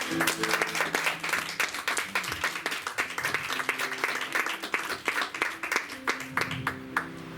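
A church congregation breaks into steady, energetic applause during a French sermon, with many hands clapping together in a rhythmic, roomy burst that lasts several seconds.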